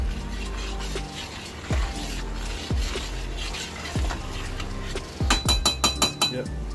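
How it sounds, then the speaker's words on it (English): A spoon stirs Hamburger Helper mac and cheese in a pan, with a series of clinks and scrapes against the pan, ending in a quick burst of sharp taps, close and moderately quiet with no talking. "You want to stir your mac and cheese"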